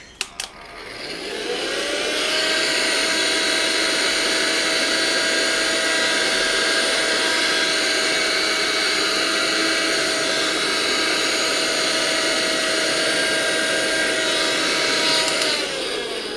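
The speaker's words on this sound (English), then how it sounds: "this little vacuum cleaner has got a HEPA filter" A small vacuum cleaner with a HEPA filter switches on after a few clicks and spins up into a loud, steady whine that holds for over ten seconds before slowing at the end.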